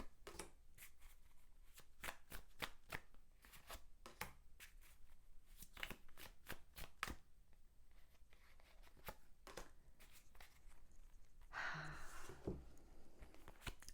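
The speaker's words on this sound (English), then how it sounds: "Let me see if I can get 3 cards on this person." Tarot cards drawn from a deck: steady soft shuffling and flicking of cards up close, with a louder rustling burst near the end and no talking.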